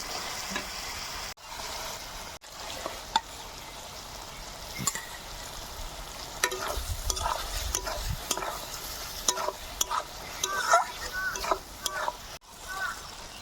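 Ridge gourd frying in a pan with cumin, green chili, ginger paste and salt added, giving a steady soft sizzle with stirring scrapes and small spatters throughout, while a voice talks over it.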